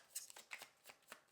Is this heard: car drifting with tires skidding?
no